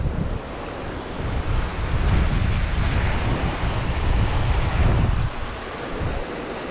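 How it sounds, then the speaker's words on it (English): Apsley River water rushing in the New England region, a broad continuous roar that swells and settles under the wind, steady and fairly loud with no voices. "And that's the Apsley River."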